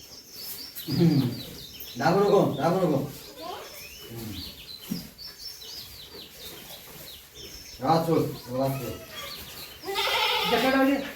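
Goats bleat several times in wavering cries, close by, with people talking and birds chirping in between.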